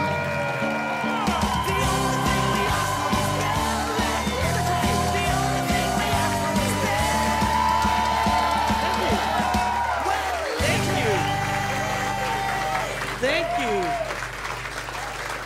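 A comedy club audience applauds and cheers a stand-up comedian. Dense, loud, sustained clapping runs throughout, with whoops and yells rising over it, and a voice cuts in near the end.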